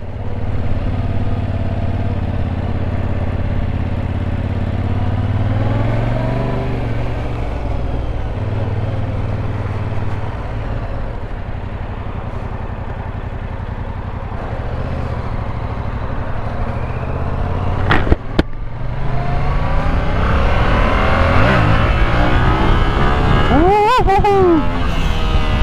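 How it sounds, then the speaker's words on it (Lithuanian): A Yamaha R7 motorcycle being ridden, its engine note rising and falling as it revs through the gears, loud and close throughout with sharper rising sweeps near the end. "Variklio garsas jaučiasi, kad nedaug tų kilovatų čia mes turim"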